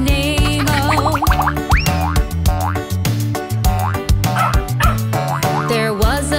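A cartoon dog barks and yips repeatedly in rhythm with a bouncy children's farm song, with springy boing effects and a loud backing track over the sung verse.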